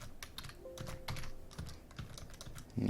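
Computer keyboard keys clatter in a steady, uneven patter while code is typed for a Pygame platformer game, close and moderately quiet with no talking.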